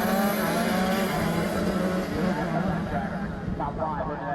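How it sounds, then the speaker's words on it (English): Shifter karts roar together at the start of a night race at The Mac Track, a dense, continuous wall of high-revving small two-stroke engines heard from nearby, steady in loudness with a crowd-like wash beneath. "Watching the shifter cart starts is always a treat."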